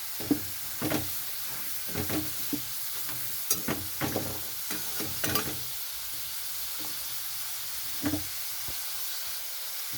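Potatoes frying in a pan for a vegetarian oats khichuri, a constant soft sizzle broken by intermittent scraping stir strokes of a utensil against the pan, with no talking.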